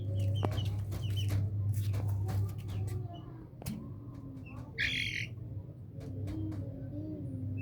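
Chicks peck at onion from a plate. They cluck and chirp close by, with a low fowl murmur, sharp squawks and high tweets scattered throughout, and a brief voice is heard faintly.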